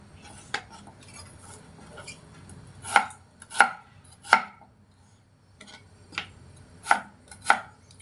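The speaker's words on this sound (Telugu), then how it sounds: "అన్నీ కట్ చేసి పెట్టుకుందాం." A knife chops potatoes into thick sticks for crispy French fries on a cutting board, sharp close knocks coming singly and in pairs with short pauses between them, and no talking.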